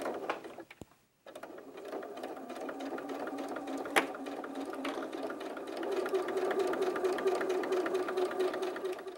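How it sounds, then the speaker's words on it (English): A sewing machine stitches along the bottom seam of a fabric bag panel, running steadily and up close for several seconds after a brief pause near the start, with a faint rhythmic mechanical whir throughout. "you're going to sew along the entire bottom edge of the main panels of the bag"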